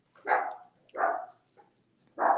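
A dog barks three times close by, short sharp woofs with clear pauses between them and nothing else heard.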